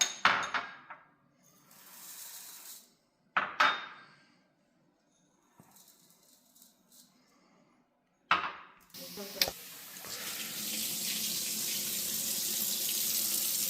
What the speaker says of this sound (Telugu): ఈ కప్పులన్నీ వాష్ చేసి సోక్ చేసేసుకోవాలి ఒక 1 hour